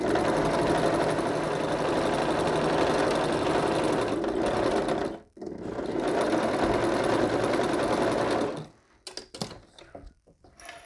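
Lock-stitch sewing machine running along the edge of a quilt storage bag: a steady, close mechanical whir that runs for about eight seconds with one brief pause, then stops, leaving faint handling clicks.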